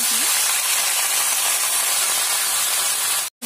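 Loud, steady sizzling hiss as chopped calabash gourd hits hot oil with fried onions in a pan, continuous frying spray that cuts out briefly near the end before resuming.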